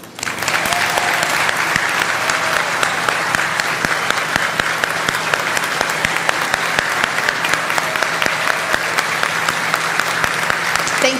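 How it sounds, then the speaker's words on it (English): A large outdoor crowd at a Navy ship christening for the USS Ted Stevens applauds veterans, a steady, dense roar of clapping that runs unbroken for over ten seconds. "We want to take a moment to give them all a round of applause for their service"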